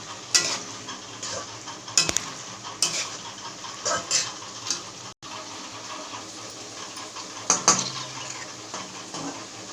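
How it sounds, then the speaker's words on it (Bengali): Vegetables and chopped onion frying in a pan for homemade vegetable egg chow mein, a spatula stirring and scraping with repeated sharp clinks against the pan over a low sizzle, close and without talk. "ভেজিটেবলসগুলো হালকা ভাজার পর পেঁয়াজ কুচি দিয়ে দেওয়া হয়েছে"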